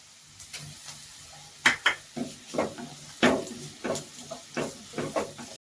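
Onion, carrot and vegetables being sautéed in a pan for Schezwan noodles, a spatula scraping and clinking against the pan in a quick irregular series over a soft sizzle.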